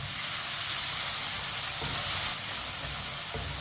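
Ginger and garlic fry in a pan with a dense, bright sizzle, stirred with a spoon that gives a few soft scrapes, close-up, steady and loud, no talking.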